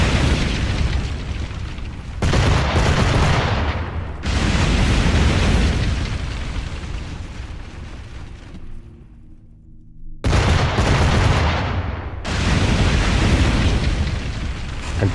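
Heavy ship cannon fire and booming explosions from a naval battle in Assassin's Creed IV roll out in long, loud blasts, broken by a brief near-silent gap before more thunderous volleys.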